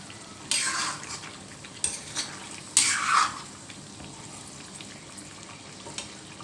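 Chicken frying in a handi pot while being stirred: a few short bursts of scraping and sizzling stir strokes over a low, steady background, close by, with no talking.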